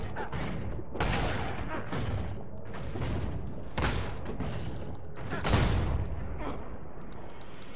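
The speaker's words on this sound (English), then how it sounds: "Whoa, I think that was just an explosion." Explosions in the action game Path of Exile, a run of booming blasts and heavy impacts at irregular intervals, the loudest near the end, over continuous combat rumble.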